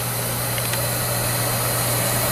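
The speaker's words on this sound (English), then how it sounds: "the furnace is now operating, and it's producing some pretty good heat" A waste oil furnace burning used motor oil runs with a steady, dense roar and a low hum. The broadband noise stays constant throughout and there is no talk.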